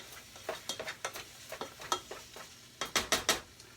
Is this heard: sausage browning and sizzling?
yes